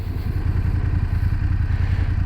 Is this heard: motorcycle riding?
yes